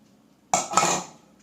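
A spoon clatters against a bowl as food is scooped into it for a sweet to be soaked in sugar syrup, one short metallic clink and scrape, close and clear in a quiet kitchen.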